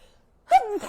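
A single sharp human sneeze indoors, a short loud burst with a voiced tail, close to the microphone.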